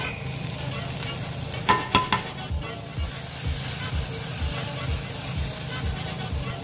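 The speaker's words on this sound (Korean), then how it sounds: "이제 볶는 거를 시작을 할 건데" Food sizzles and hisses steadily in a hot pan while it is stir-fried, with a few sharp scrapes and clacks of a utensil tossing the ingredients, close up and continuous.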